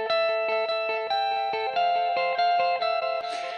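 An electric lead guitar sent through a delay effect on an audio send plays a bright repeating melodic line, plucked notes echoing in a steady rhythm, close and clear, with a brief noisy burst at the end.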